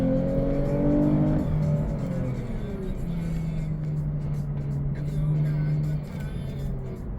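A Lexus IS350 F-Sport with a Borla Type-S axle-back exhaust drones and revs in Sport Plus mode, its engine tone rising then settling into a steady hum from inside the cabin.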